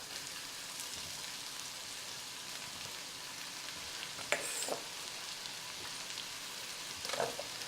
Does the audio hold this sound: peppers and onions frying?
yes